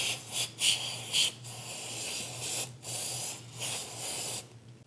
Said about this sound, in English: We'll take some contact cleaner and spray out the oil filter cover.